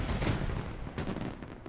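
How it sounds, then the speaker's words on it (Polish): Faint muffled pops and booms of fireworks from a Minecraft fireworks mod burst a few times against a steady background hiss. "Mod ten dodaje nam do gry fajerwerki, co mogliście już zobaczyć przed chwilą."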